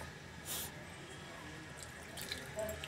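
Water trickles and splashes softly as it is poured into spiced minced meat for homemade handi keema, a quiet, steady liquid hiss with a brief louder gush near the start.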